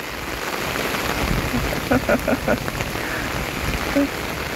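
Heavy rain pours down outdoors in a dense, steady roar of drops hitting surfaces, loud and close throughout, with a few brief voices and knocks breaking through the downpour.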